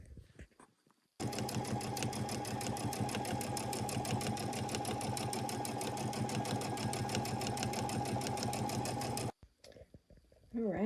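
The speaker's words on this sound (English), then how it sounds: "So I'm just going to do a basic stitch first and get it placed down" An embroidery sewing machine runs a basic placement stitch, its needle hammering in a fast even rhythm that starts abruptly, holds steady and loud for about eight seconds, then stops dead.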